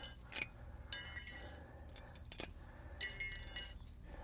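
Metal brake clips pulled off the brakes of a 5th-gen Ram 2500 Cummins truck, giving several short, bright metallic clinks and jangles in scattered bursts, close and fairly faint.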